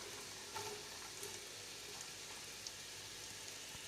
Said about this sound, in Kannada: ಈಗ ಇದಕ್ಕೆ ನಾವು ಸ್ವಲ್ಪ ಆಯಿಲ್ ಹಾಕಿ ಆನಿಯನ್ ಹಾಕಿ ಫ್ರೈ ಮಾಡುವ.